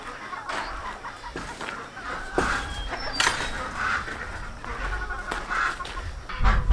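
Ducks and chickens on the move call repeatedly outdoors, with clucks and honking quacks rising and falling in a busy, moderately loud flock chorus against steady background noise.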